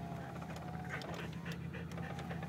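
A dog pants quickly and softly inside a car during a drive, its rhythmic breathing faint over the low engine hum.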